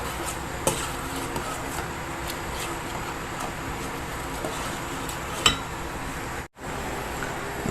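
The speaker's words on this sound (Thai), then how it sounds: "รอน้ำมันเดือดสักพัก ครับ เดือดได้เลยครับ" Hot oil bubbling and sizzling steadily in a pan while cooking a Thai egg dish with coriander, spring onion and mushrooms, a continuous close hiss with occasional small clicks and a brief dropout near the end.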